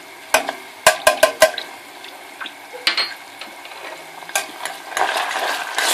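Minced meat browned for tarhana soup is stirred in a pan as tomato paste goes in, with a quick run of sharp utensil clicks and then a steady close sizzle and scraping with no voices.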